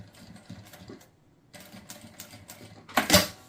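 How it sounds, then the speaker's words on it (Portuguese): A sewing machine stitches a zipper onto a fabric makeup bag, running in short quiet bursts of rapid mechanical ticking before a louder, faster run at the end. "Posiciono na máquina e faço a costura."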